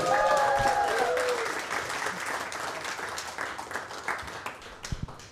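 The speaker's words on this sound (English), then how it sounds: "You clap, and then I bring up the next comic." Comedy club audience applauding a comic's introduction, a dense wash of clapping that starts loud and slowly thins and fades over about five seconds, with a few scattered claps near the end.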